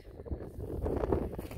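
Strong wind gusting during rain, a low buffeting roar against the microphone that swells and rises through the moment, with faint rustling and no voices.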